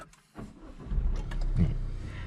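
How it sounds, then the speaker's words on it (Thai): A new Mazda 2 XDL with a diesel engine is started by push button, cranking briefly and catching into a low, steady idle that hums close by. "ด้วยความที่เป็นรถดีเซล ไง เสียงลั่นเลย เหมือนเราขับกระบะ"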